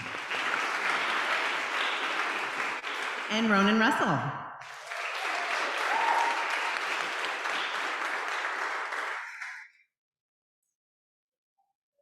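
At a Scout troop court of honor, a roomful of people gives a round of clapping for an absent scout, with a voice briefly announcing a name partway through before the applause resumes and then stops abruptly.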